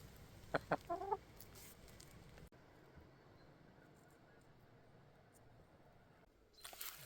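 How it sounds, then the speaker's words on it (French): A chicken in a cellar pen gives a short burst of several quick clucks early on, close and fairly soft, followed by a long stretch of quiet room noise and a brief rustle at the end. "Regardez cette noble volaille"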